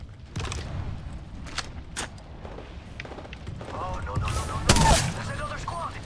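Bursts of gunfire from the battle royale shooter Apex Legends ring out in quick volleys, some distant and some closer, with a loud blast near the end, while players talk over the action.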